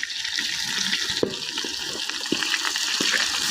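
Onions and meat for plov fry in a pot, a steady close sizzle with scattered scraping and clunking as they are stirred, and no talking.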